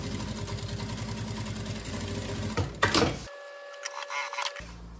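A sewing machine runs in a fast steady stitching burst along the edge of a school backpack panel, then stops with a few clicks and handling noises and a brief pause.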